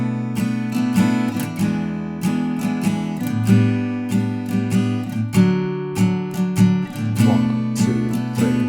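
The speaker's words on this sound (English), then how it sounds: "We're going to be playing down, down, up, once for each of these chords." Acoustic guitar strummed in a steady down-down-up pattern through the chords of a song, each stroke a bright, close chord over sustained ringing strings, played alone with no voice.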